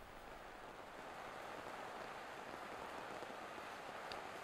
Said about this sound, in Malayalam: രാവിലെ മുതൽ കൊച്ചിയിൽ നല്ല മഴയാണ്